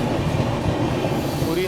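Train rakes rolling past near an Indian railway line, a dense continuous rumble with steady clickety-clack of wheels over rail joints and a faint squeal rising near the end.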